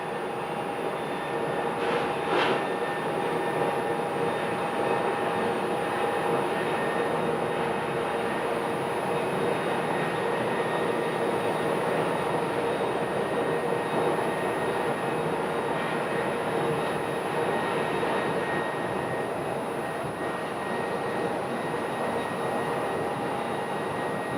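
Jet airliner engine at Phoenix airport, a steady loud roar with a high whine running throughout, a smoking engine noted.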